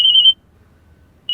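A phone ringing with a piercing electronic tone in two bursts separated by a short silent gap, loud and close.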